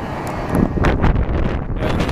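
Strong gusting wind roars across the microphone at an airport during plane spotting, loud and close with rumbling buffets that swell and fade, and no voice over it.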